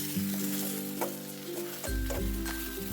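Susni greens are stirred and fried in a pan, giving a close, steady sizzle with rhythmic scraping strokes of a spoon roughly every half second and no voices.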